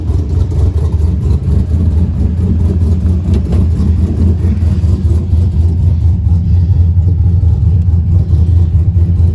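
A 6.2 engine runs steadily after start-up while warming up, a loud, close, even rumbling idle with a deep low throb throughout.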